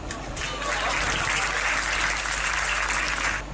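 Audience at a live comedy show breaks into loud, sustained applause, a dense wash of clapping that swells quickly and holds steady before fading at the end.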